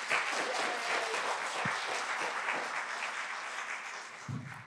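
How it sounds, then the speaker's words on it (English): Audience applause at a high school spring choral concert, dense steady clapping from a hall full of listeners that slowly eases off, without voices. "Give them another round of applause,"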